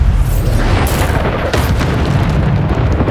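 A Bombarda spell explosion in Hogwarts Legacy, a loud, deep, close boom with a rumbling tail, followed by further blast bursts over about three seconds.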